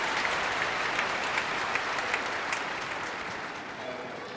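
A record-sized tennis crowd in a stadium at the 1994 Key Biscayne final between Sampras and Agassi applauds in a dense, sustained roar of clapping that holds steady for over four seconds.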